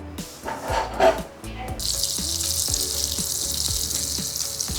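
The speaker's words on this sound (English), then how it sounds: "let's take this sea bass inside and fry it" Sea bass fillet is laid into hot butter in a pan and starts to fry, a steady bright sizzle that kicks in after some clatter and a few dog barks, continuing evenly.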